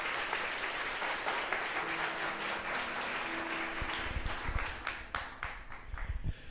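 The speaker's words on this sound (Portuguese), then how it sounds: "Vamos aplaudir a palavra de Deus." A church congregation applauds after a scripture reading, a dense wash of clapping that grows choppier toward the end, with a faint tone and low thumps underneath.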